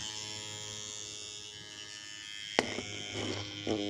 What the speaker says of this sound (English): six farad super cap with a couple of volts in it and that made a really nifty pulse motor